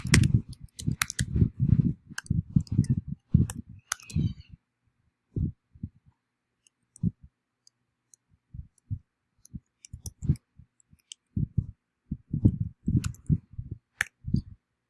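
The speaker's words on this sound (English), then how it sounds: "So first we'll type something." Typing on a MacBook Pro keyboard: close, quiet key clicks in quick bursts, a dense run at the start, then scattered single taps after a pause, and another short flurry near the end.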